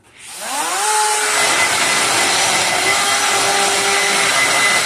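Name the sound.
drill bit cutting aluminum with drill wax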